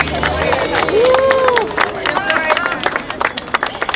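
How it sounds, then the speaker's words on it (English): A crowd at a ribbon cutting event applauds, with lively clapping mixed with cheering voices and chatter, fairly loud and close. "I'd like to give a round of applause to her because she's here today"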